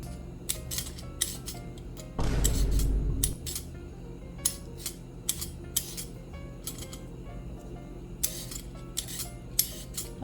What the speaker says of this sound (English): I get a bowl and start peeling my carrots